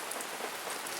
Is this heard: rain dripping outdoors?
yes